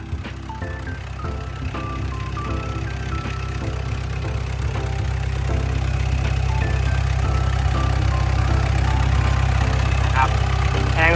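The diesel engine of a Komatsu WA150-6 wheel loader idles with a steady low rumble, running evenly throughout at close range.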